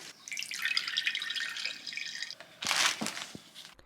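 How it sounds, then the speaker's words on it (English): Cold water runs from a tap into a sink as tie-dyed fabric is rinsed, a soft steady splashing stream, then a louder gush as the fabric is moved under the flow. "For this one, I'm going to rinse it with cold water until the water runs relatively clear."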